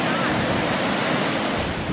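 Sea waves surge along a coast in Japan with Mount Fuji nearby, a steady loud wash of surf and breaking water filling the whole stretch, with wind buffeting the microphone throughout.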